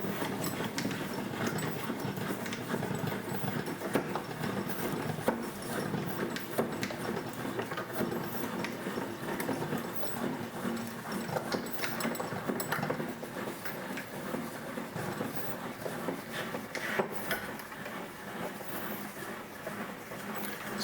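Hand crank raising a Sanodesk H1B two-legged standing desk, a steady run of quiet repetitive ticking and ratcheting clicks from the crank mechanism, close and faint, continuing for about twenty seconds with no talking.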